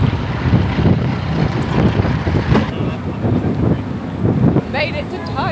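Strong wind whipping through Times Square, New York City, loud rumbling gusts buffeting the microphone throughout, with voices faintly mixed into the roar.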